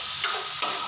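Khoya roasting in a pan for halwa gives a steady, close hiss with a faint scrape of stirring partway through, heard alone without voices.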